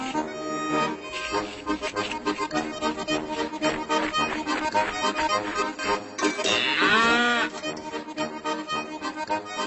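A cartoon cow lets out a drawn-out, wavering moo over lively background music that plays throughout, the moo rising clearly near the end.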